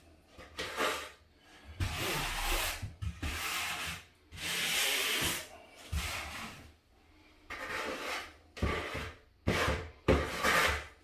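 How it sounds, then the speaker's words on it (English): Grout float rubbed and scraped across wet grout on floor tile while repairing a damaged, chipped tile, in repeated close, gritty strokes separated by short pauses. "Then I take my float and I'll clean up the excess off the tile."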